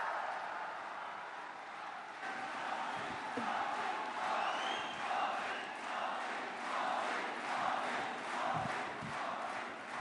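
A crowd cheers and claps to welcome Prime Minister Narendra Modi at the inauguration of IIT Gandhinagar in Gujarat. It is a sustained, fairly steady roar of voices and hands across a large gathering, with no clear talk on top.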